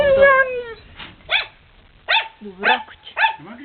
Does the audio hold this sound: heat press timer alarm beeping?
no